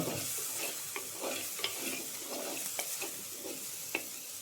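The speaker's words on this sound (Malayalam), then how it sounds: "ഒന്ന് ഇളക്കുക." Masala paste sizzles in a pan while a spoon stirs it, a steady close frying hiss broken by a few light scraping taps.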